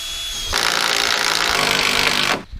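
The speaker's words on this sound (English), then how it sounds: "drill some holes, run some bolts through it, cinch it down super tight" A power drill bores into wood, one continuous close, loud whine-and-grind burst lasting about two seconds before cutting off.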